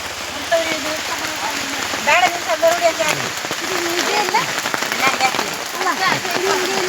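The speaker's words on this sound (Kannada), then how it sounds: "ಜೋರಾಗಿ ಮಳೆ ಬರ್ತಾ ಇದೆ" Heavy rain drumming on a tarpaulin shelter at an outdoor protest camp where people cook, a dense steady patter throughout while several voices talk and call out underneath.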